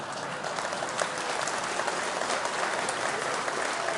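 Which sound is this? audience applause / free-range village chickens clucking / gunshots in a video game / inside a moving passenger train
audience applause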